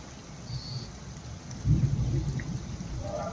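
Steady rain patters outdoors, joined midway by a low rumble of thunder, with faint bird calls and no voices.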